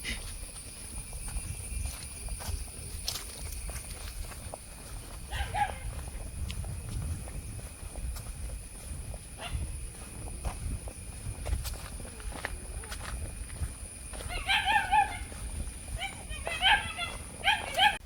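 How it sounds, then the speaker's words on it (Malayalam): A German Shepherd barks in short bursts at a distance, several barks clustered late on, over a faint outdoor background hum. "ലിയോയ്ക്ക് എന്നെ കണ്ടിട്ട് മനസ്സിലായിട്ടില്ല ലിയോ കുരയ്ക്കുന്നുണ്ടേ"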